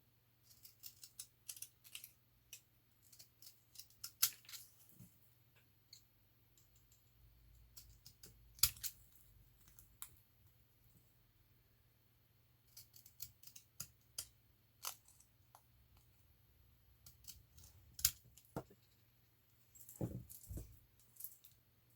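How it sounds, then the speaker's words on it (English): Deckle-edge craft scissors cutting around a paper tag, a string of faint, quiet snips and clicks at irregular intervals with no talking. "I'm going to use my deckled edge scissors"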